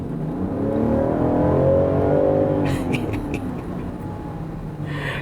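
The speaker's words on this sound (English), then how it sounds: "this has plenty of get up and go for an inline 6-cylinder engine that is turbocharged and supercharged" A 2023 Land Rover Defender 130 with a turbocharged and supercharged inline-six accelerates hard from inside the cabin, a rising engine roar climbing in pitch for a few seconds, then settling into a steady drone.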